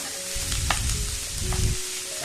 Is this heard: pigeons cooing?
no